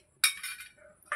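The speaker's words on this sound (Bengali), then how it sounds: "এবার ঢেকে দিচ্ছি।" A lid set down on a pot of potato and duck egg curry, one bright metallic clink followed by a short ringing scrape, then a second light tap, close and moderately loud.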